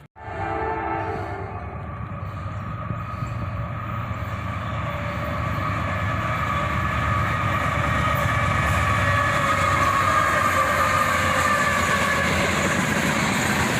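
A CSX southbound covered hopper train led by a pair of GE AC44CW locomotives roars past close by, the engines screaming with a steady, building drone and wheel clatter that stay loud throughout, with no voices.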